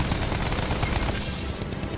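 Dense gunfire from the Battlefield 1 single-player campaign, rapid overlapping shots and machine-gun bursts filling the whole stretch at steady, close loudness with no pauses.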